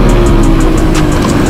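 A steady, loud motocross bike engine drones continuously with a faint rhythmic pulsing, heard up close with no voices.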